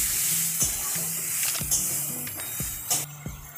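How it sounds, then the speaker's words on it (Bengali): Slit green chillies sauté with vegetables in a pan for a ridge gourd and moong dal dish, giving a steady hissing sizzle broken by a few sharp spatula clicks and scrapes, close and moderately loud. "দুটো চেরা কাঁচা লঙ্কা এখানে আমি দিয়ে দিলাম। এটাও ভালো করে কষিয়ে নিতে হবে।"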